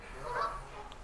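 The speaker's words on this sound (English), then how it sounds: "amongst the noisy Canada geese" Canada geese honking in a noisy flock outdoors, a single clear honk rising above the background clamor mid-clip, with more distant calls and a faint voice underneath.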